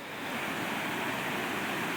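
Creek water rushes in a steady, full hiss of flowing water, close and continuous with no breaks or voices.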